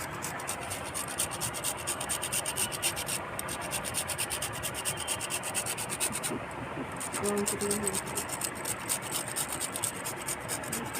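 Gondhoraj lemon peel is grated by hand in a home kitchen, giving a quiet, continuous scraping and rubbing that runs steadily for several seconds with faint background noise.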